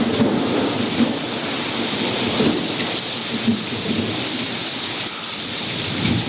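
Heavy rain pours steadily with rumbling thunder rolling through a thunderstorm, a dense continuous wash of close rainfall with low booms underneath and no voices.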